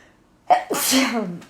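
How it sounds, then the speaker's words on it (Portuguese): A single sharp sneeze, close and sudden after near silence, with a brief voiced tail as it fades. "Espirrar."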